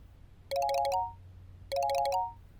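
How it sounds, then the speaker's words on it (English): A phone rings in two separate bursts of trilling electronic tones, each lasting about half a second, with a short gap between them. The rings are clear and moderately loud over a quiet background hum. "The phone rang."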